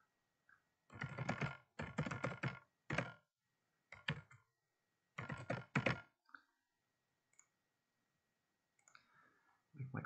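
Keyboard typing while naming a package in surveying software, several quick bursts of keystrokes with short pauses between them, close and fairly faint, followed by a few scattered clicks.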